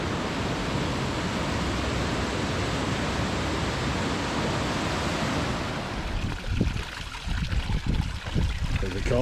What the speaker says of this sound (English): we just had to stop really quick at this amazing river